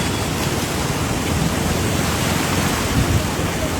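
The swollen Sangu river, flooded after overnight rain, rushes past as a steady, dense roar of water that is loud and constant throughout, with no breaks and no other sounds standing out.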